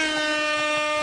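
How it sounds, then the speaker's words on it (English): A loud air horn sound effect blares as one sustained, harmonically rich horn blast lasting about a second, heard on its own. "That damn air horn drives me freaking crazy."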